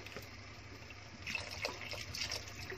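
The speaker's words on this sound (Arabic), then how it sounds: "هحط ميه يعني حوالي لحد ما اغطيهم بالظبط، مش هكتر قوي" Water is poured from a container over sautéed vegetables in a pot, giving a steady soft trickle and splash at close range with no talk over it.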